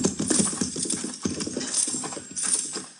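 Horses' hooves clip-clop steadily over ground in a radio drama sound effect, a close, continuous trotting rhythm heard alone.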